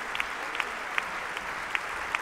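Concert-hall audience in the Grote Zaal of Vredenburg, Utrecht, applauding an early-music opera ensemble after Eccles' Semele; dense sustained clapping fills the hall, with a few sharp nearby claps standing out at irregular intervals.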